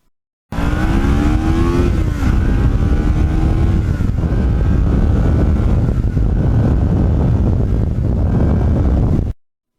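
Kawasaki Ninja motorcycle engine opening to wide throttle, a loud continuous roar with rising then falling pitch sweeps as it revs through gears, heavy wind rush over the microphone, no talking.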